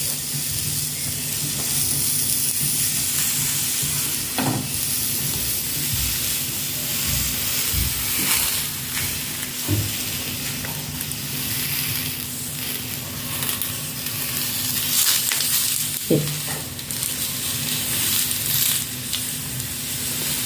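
Sardines frying in a hot pan on a banana leaf, a steady close sizzle and hiss running throughout with a few soft clicks and stirring touches, no talk.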